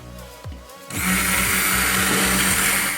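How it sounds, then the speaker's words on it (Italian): An electric blender whirs up to full speed, puréeing peeled tomatoes with a steady loud high-pitched whine and churning rumble after a brief low start, no voices heard. "visto che ho utilizzato il pelato, lo vado a frullare adesso"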